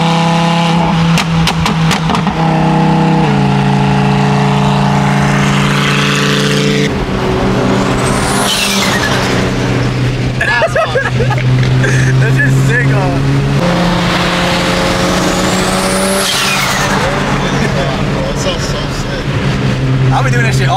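A Nissan GT-R revs loudly and steadily throughout, its engine note rising and falling in sweeping pulls, with hissing whooshes between revs that suit a blow-off valve.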